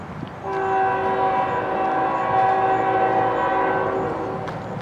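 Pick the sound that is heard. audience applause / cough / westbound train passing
westbound train passing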